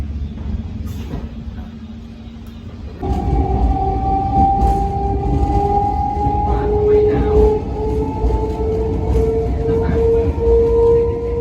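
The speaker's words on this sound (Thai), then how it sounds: "ตอนนี้รถไฟออกแล้ว" A heavy rumble starts abruptly and keeps going as a train departs a station on the Aligarh to New Delhi line, with a rising whine building steadily over the low drone.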